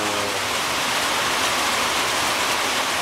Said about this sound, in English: I don't know how much this rain is affecting the microphone.